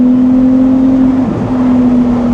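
A Ferrari engine drones steadily on a circuit, holding a loud, even tone with a brief dip in pitch partway through, with no talking.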